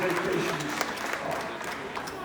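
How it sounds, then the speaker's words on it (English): Audience applause aboard a Royal Caribbean cruise ship, a fairly faint, steady patter of many hands clapping that continues evenly for a couple of seconds. "Give a big round of applause."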